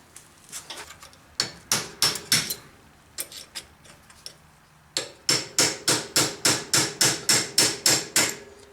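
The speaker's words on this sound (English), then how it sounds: "I want to knock this ring on with the punch and the hammer" Sharp metallic hammer strikes on a punch seating a ring onto a Raleigh Chopper bicycle, first in a few scattered groups, then a fast, even series of ringing blows.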